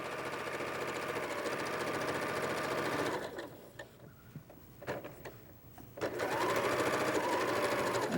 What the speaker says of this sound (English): So we'll just sew this piece on, just line it up, and just keep our edges even.